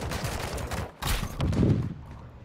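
Long-range gunshots in a video game, a quick cluster of loud cracks with a sharp burst near the middle and a rumbling tail.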